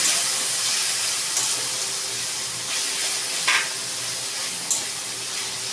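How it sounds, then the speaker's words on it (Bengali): A splash of water goes into Kashmiri chili spice paste frying in a pan, giving a steady close sizzle with a few faint stirring scrapes and no voices. "সামান্য একটু জল দিয়ে দিলাম যাতে মশলাটা না পুড়ে যায়।"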